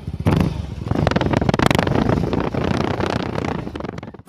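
A motorcycle improvised from a car's parts rides past, its engine loud and close with a dense, roaring drone and rising throttle swells, carried through wind buffeting on the microphone, no talk.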